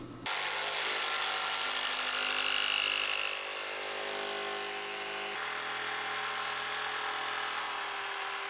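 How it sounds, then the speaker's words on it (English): A handheld router with a quarter-round bit rounds over a plywood edge, giving a steady, close, high-pitched whine that carries on unbroken for several seconds with a slight change in tone partway through. "So I'm just taking a 1/4 round on a router and just clipping this whole edge."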